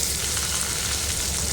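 Stuffed ridge gourds fry in hot oil with curry leaves, a loud, steady, close sizzle with stirring underneath, no talk.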